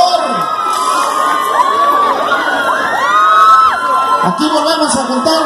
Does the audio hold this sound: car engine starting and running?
no